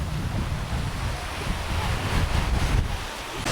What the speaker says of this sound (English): we have a sandy beach and the clear water